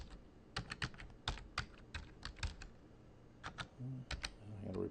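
Quick bursts of computer keyboard keystrokes as a password is entered, irregular crisp taps in short clusters, close and fairly quiet, with no talking.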